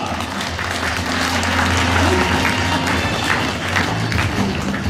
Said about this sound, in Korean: 여러분 축하의 박수로 환영해 주시고 고맙겠습니다